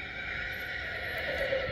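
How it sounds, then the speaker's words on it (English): Horses whinny from the middle distance on open farmland in Norco, California, a drawn-out neigh rising over steady outdoor background noise with no talking. "you can hear the horses in the background"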